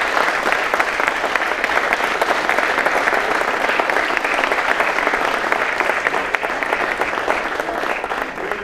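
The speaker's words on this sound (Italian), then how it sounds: "un grande applauso per Mediolanum Soccorso" A crowd at an event honoring the Mediolanum Soccorso volunteer rescue service claps in sustained, dense applause that stays loud throughout and eases slightly at the end.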